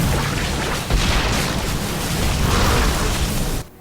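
Zerg overlords being blown up in StarCraft, a continuous wash of explosive booms and bursts, loud and dense, cutting off abruptly at the end.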